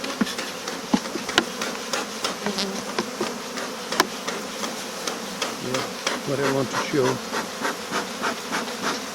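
Steady buzzing of many honeybees at the hive fills the clip, with occasional taps and a voice speaking briefly nearby, in Denmark.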